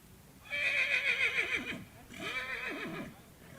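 A horse at a young-horse and foal show neighs twice in long, loud whinnies, each with a shaky descending tail, heard clearly with little else around.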